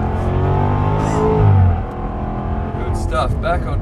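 A car engine revs and accelerates loudly on track, pitch climbing then easing off, with someone talking over the roaring motor.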